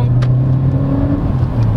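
A 2022 Honda Civic S with a turbocharged engine and CVT drives down a steep grade in drive mode, its steady low engine hum and road rumble loud and continuous throughout.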